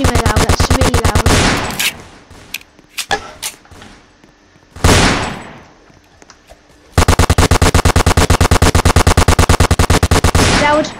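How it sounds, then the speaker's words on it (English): Compact SMG gunfire in a Roblox video game: two long, loud bursts of rapid automatic fire with a few scattered single shots and a swishing sweep between them. "There, I got compact SMG. That's super loud, that's really loud."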